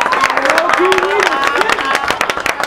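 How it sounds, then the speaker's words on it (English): Camp participants at a Chicago camp clapping and cheering for themselves, lively crowd applause with shouts and voices talking over the clapping, close and loud. "Give yourselves a round of applause"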